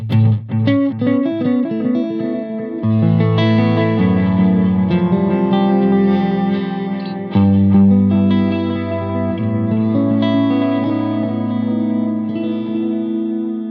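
An electric guitar plays a run of notes, then sustained chords, through a Flashback delay pedal. Distorted repeats and a swirling, chorus-like wash trail behind each note, heard alone and fairly loud.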